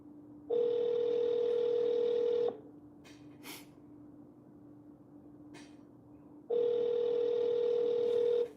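Two long ringback tones sound on an outgoing telephone call, each about two seconds, separated by a quiet gap with faint background noise and small clicks.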